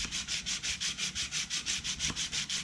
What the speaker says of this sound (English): Now you can see how it's starting to sand it all off now.